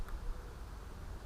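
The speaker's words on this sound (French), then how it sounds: "Ça grouille d'abeilles." A brief, dense low buzz of many Caucasian honeybees humming together in a crowded hive, steady and close, with no voices.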